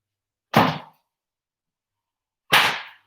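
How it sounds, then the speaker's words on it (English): Two separate sharp golf club swing whooshes, each a quick rushing burst about two seconds apart, close and clear against silence. "It's a golf swing, isn't it?"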